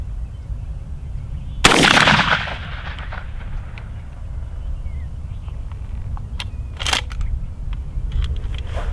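A shotgun fires a single loud, sharp blast of cut shells outdoors, followed by a brief echo and then quieter ambient noise with a few small clicks.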